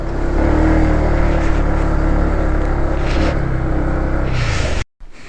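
Motorcycle engines rev and drone nearby at Kudal People's Park in Bagulin, La Union, a loud sustained engine roar with swells in pitch that cuts off abruptly near the end.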